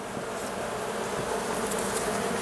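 Honeybees hidden inside a building wall and ceiling give off a dense, steady buzzing hum, loud and continuous with no speech.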